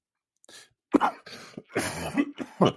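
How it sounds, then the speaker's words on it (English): A person coughs several times in quick succession, close by. The harsh, raspy bursts come unevenly over a couple of seconds. "And do excuse my cough, it's still playing up."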